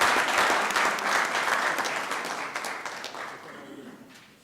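A city council chamber fills with a round of applause from the audience, dense and steady at first, then gradually thinning and fading toward the end.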